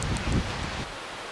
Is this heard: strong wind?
yes